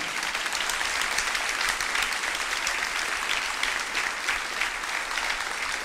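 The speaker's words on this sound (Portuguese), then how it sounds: "Vamos aplaudir o Senhor, vale a pena" A Brazilian congregation at a Sunday school service applauds the Lord, a dense, even wash of clapping that holds steady and full for several seconds.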